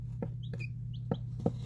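Young chickens, including a silkie, make a few soft, close clucks and short chirps alongside light knocking sounds, over a steady low hum with no talking.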